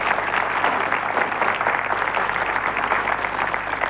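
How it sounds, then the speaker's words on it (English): A studio audience at a televised quiz show applauds, a continuous dense wash of clapping at steady loudness throughout, with no voices over it. "So a round of applause for Rod there."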